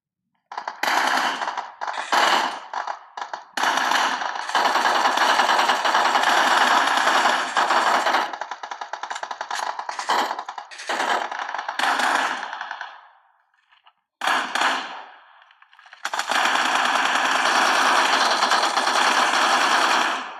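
Automatic gunfire from a shooter video game rattles in long, loud, rapid bursts, broken by a few short gaps and one longer pause before firing resumes.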